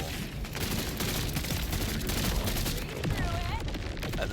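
Grenades bursting into glowing gold explosions in the video game Borderlands 4, a dense, continuous barrage of rapid blasts and gunfire-like pops that stays loud throughout, with faint talk mixed in.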